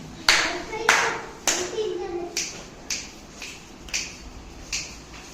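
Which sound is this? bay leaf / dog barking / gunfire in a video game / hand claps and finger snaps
hand claps and finger snaps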